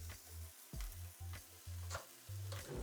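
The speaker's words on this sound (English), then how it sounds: "I'm gonna get that over in the oil, soak that up" Wild game meat fries in hot oil under a warm hamburger press, giving a continuous close sizzle with bursts of crackle and a few scraping, shifting sounds. No one talks.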